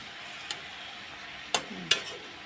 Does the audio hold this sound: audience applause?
no